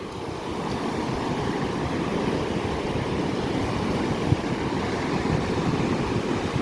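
Steady roar of ocean surf washing in continuously on a beach near Cocoa Beach Pier, broad and full, with some wind noise and no voices.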